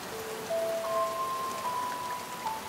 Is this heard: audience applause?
no